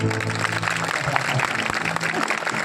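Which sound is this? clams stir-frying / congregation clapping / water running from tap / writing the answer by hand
congregation clapping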